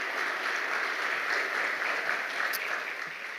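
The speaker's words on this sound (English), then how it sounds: "So let's give everyone a round of applause." A round of audience applause for partners at a live-streamed St. Pete, Florida event, even and continuous clapping heard from a distance, fairly soft and steady for over three seconds.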